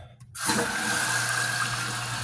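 Water rushes steadily into a toilet tank through a newly installed Korky fill valve after a short quiet start, a continuous hissing flow with a low hum underneath, close by.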